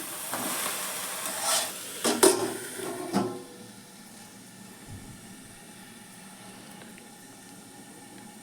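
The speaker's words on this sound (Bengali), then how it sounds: "লবণটা মিশিয়ে দিলাম" Cabbage stirred with salt in a pan makes a brief burst of scraping and sizzling, with a couple of clanks, before it settles into a soft, steady hiss. It is close, and no one speaks.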